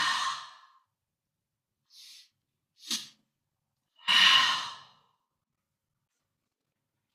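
Deep breathing during a breathwork session, a long audible exhale, two short inhales, then another long heavy exhale, each separated by silence, close and alone.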